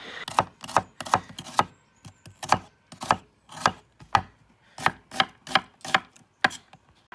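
A sharp Flint and Flame knife chopping food on a board, about twenty crisp close knocks in an uneven rhythm with short pauses, no voices.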